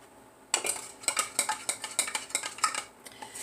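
A spoon stirs salad dressing with apple cider vinegar in a small dish, clinking against it in a steady run of quick, bright taps with no talk.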